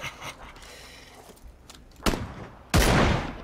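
In the PUBG video game, quieter mechanical clicks and rattles lead into two sharp, loud gunshots near the end, each followed by a rumbling tail, with no speech.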